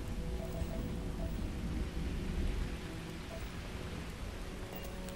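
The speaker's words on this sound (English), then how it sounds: "Oh, wow! The storm!" A rainstorm in Starfield on the planet Akila, with dense, steady rainfall and a low, continuous rumble of thunder filling the background, loud and unbroken.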